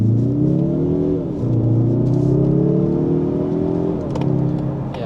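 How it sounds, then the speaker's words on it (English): A small car accelerates hard, its engine note climbing through the gears with a short dip at each shift, loud and close from inside the cabin. "Let's do a quick acceleration right here."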